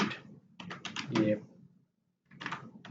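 Short bursts of clicking keystrokes on a computer keyboard as a command is entered in a terminal, with someone talking between the bursts.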